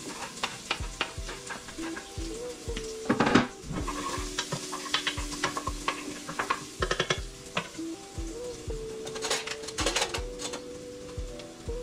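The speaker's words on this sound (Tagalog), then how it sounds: "So ngayon, lutuin ko muna tong spaghetti sauce." Spaghetti sauce cooks in a pot on the stove, a soft steady sizzle broken by repeated clinks and scrapes from stirring, with no one talking.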